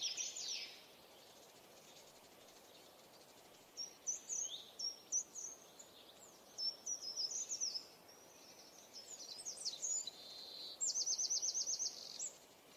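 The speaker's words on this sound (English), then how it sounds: "you can hear the sounds of forest when you're walking through, and the biodiversity of the birds, the wind that goes through the leaves" Forest ambience with several birds calling: bursts of high chirps and trills repeat through the stretch, some quick and rapid, over a faint steady background hiss like soft wind in leaves. No one speaks.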